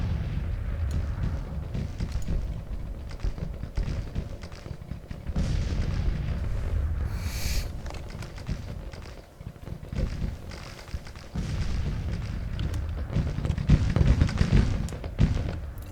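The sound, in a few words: gunfire and artillery in the video game Grand Tactician: Civil War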